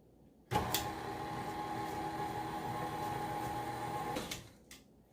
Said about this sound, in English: let's start our mixer. Start it up slow though